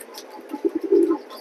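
Racing pigeons, including grizzle birds, coo softly nearby in a short run of low, rolling calls that swell toward the middle.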